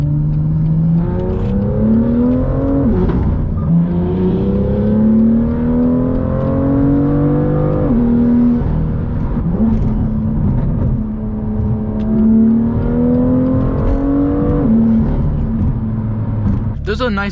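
A BMW M car's engine drones loudly and steadily while driving, its pitch climbing and falling repeatedly as the revs rise and ease off, with continuous close road rumble.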